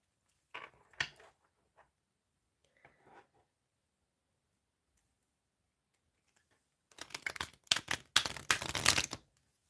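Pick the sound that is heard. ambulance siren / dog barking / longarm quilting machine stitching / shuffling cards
shuffling cards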